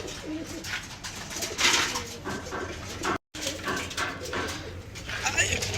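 Pigeons coo repeatedly in a loft, soft throaty calls mixed with rustling and background noise while someone speaks over them.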